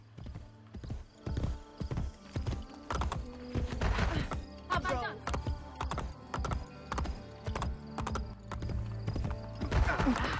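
Rhythmic clip-clop of horse hooves trotting steadily and close in the video game Assassin's Creed Brotherhood, with a brief whinny partway through and faint voice underneath.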